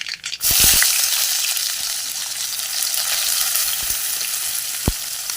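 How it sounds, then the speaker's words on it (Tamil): Loud, steady sizzling of onions frying in hot oil with mustard seeds, with a few sharp pops and a brief clatter near the start. "கடுகு புரியுதுன்னா நமக்கு வெங்காயம் போட்டுக்கலாம்"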